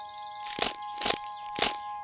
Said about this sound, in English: But we're just breaking crackers. Crunchy crackers.